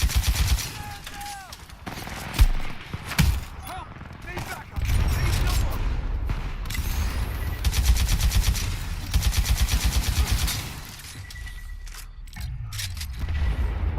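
In Titanfall 2 gameplay, a Sidewinder SMR rocket launcher fires rapid volleys of small rockets, with repeated sharp bursts and booming impacts and a faint voice now and then.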